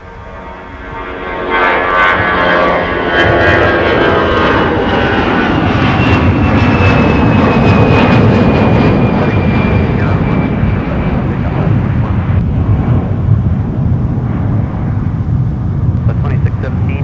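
A fixed-wing aircraft's engines roar loudly and steadily at Minneapolis–St. Paul airport in winter during deicing operations, rising after a quiet start and holding a broad, sustained drone with a faint whine on top.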